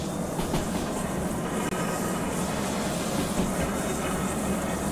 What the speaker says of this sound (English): Alright, bit of train brake.